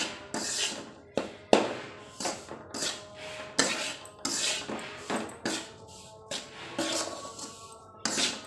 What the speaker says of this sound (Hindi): हलवा को लगातार चलाते रहना है।